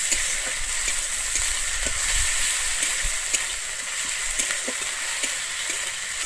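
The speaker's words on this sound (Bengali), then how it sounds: "আমি আদা রসুন বাটাটা দিয়ে কিন্তু খুব ভালোভাবে আবারও ভেজে নেবো" Continuous close sizzling of ginger-garlic paste frying in a pan, with occasional soft scraping and stirring taps.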